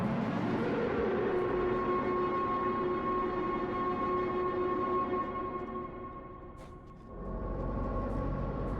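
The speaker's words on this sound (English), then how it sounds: "these foghorns" Foghorns in the video game Rain World: a long, loud, droning horn blast with steady low tones holds for several seconds, dips briefly, then swells back in, no talking.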